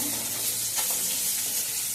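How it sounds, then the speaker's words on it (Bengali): Hilsa fish frying in hot oil as the pieces are lifted from the pan, a dense continuous sizzle with faint stirring touches, close and steady. "মাছগুলোকে তুলে দিলাম মাছগুলো আমার ভাজা হয়ে গেছে"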